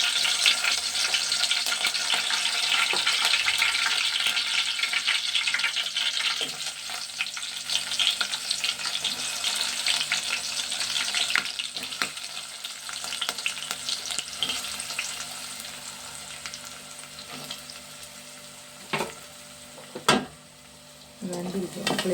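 Curry leaves frying in a pan of hot oil, giving a steady broadband sizzle and crackle with occasional stirring clatter and a few sharper pops near the end.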